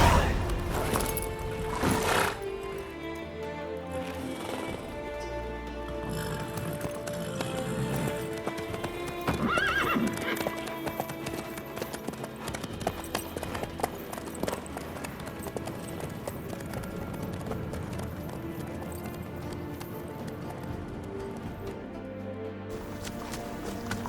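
Horse hooves clip-clop steadily in The Witcher 3 video game, with occasional neighs, under a continuous bed of music and ambience.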